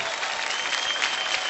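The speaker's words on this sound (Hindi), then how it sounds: "एक बार जोरदार तालियां हो जाएं आलिया भट्ट की इस खूबसूरत परफॉर्मेंस के लिए।" Dense, loud clapping from a big award-show crowd after Alia Bhatt's performance, a steady uninterrupted wash of applause.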